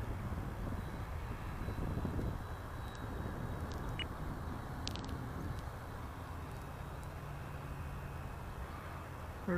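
An FMS SuperEZ radio-controlled airplane flies loops in a crosswind, its engine a faint, distant drone that holds steady under wind noise throughout.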